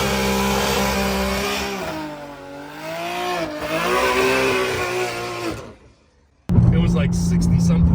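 Engine of a BMW M3 revving and pulling hard during a ride, with loud rising and falling revs for several seconds, a brief near-silent gap, then the sound resumes. Heard from inside the car.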